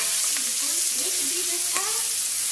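Onions sautéing in a pan over medium heat, a loud, steady frying hiss close by, with faint voices murmuring underneath.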